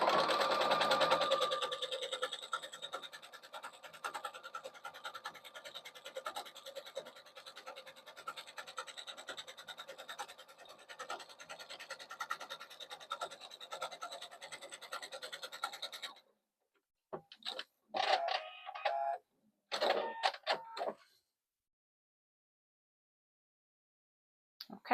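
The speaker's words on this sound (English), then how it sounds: "now I'm just going to sew with a 3 stitch length" A sewing machine quilting tote bag panels at a 3 stitch length runs steadily and close for about sixteen seconds, then stops; a few short bursts of stitching and fabric handling follow before it falls quiet.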